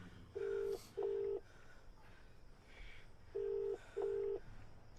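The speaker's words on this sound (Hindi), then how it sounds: "उसको फोन लगा रहा है सोनम को सबको ढूंढो" A telephone being dialed, four short electronic keypad tones sounding in two pairs, quiet and close, with no talking.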